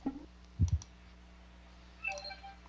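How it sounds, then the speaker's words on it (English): A loud computer keyboard typing through a Skype headset during a tournament stream, heard as a short burst of close clicks followed by a softer scatter of keystrokes in a quiet background. "I have a very loud keyboard."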